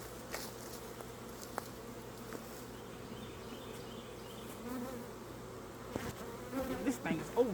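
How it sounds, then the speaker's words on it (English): Bees hum in a continuous low drone from an overfull beehive during a hive inspection, fairly close and steady, with some handling noise and rustling near the end. "This thing is over full of bees"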